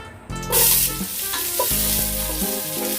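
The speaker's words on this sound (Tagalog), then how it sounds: "Gisa-gisahin lang ang bawang." Garlic sautés in hot oil in a pan for a Filipino pork dish, a loud burst of sizzling followed by close scraping stirs.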